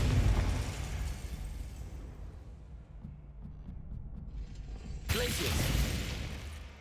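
A Confringo blasting spell in a Hogwarts game lands with a loud burst at the start that rumbles and fades, then a second sharp blast cracks out near the end and rings on briefly.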